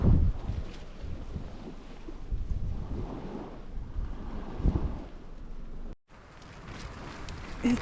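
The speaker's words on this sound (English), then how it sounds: "this wind is like seriously testing out my Nemo tent" Strong night wind buffeting a Nemo tent at a campsite, a steady roaring rush with gusty swells and fabric flapping, close and continuous with a brief dropout near the end.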